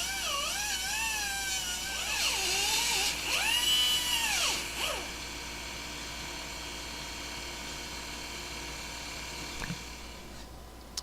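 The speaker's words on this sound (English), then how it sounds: "So we move on to bigger and better things, namely power tools" A power tool deburring a part for a Pokeball launcher whines close by, its pitch rising and falling under load for about five seconds before settling into a steadier running hum.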